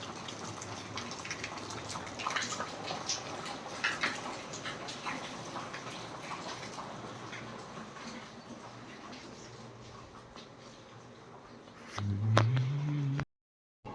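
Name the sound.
heavy rain falling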